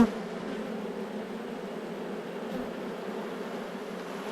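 Honey bees buzz on hive frames in an Australian apiary, a dense, even drone held close and steady throughout.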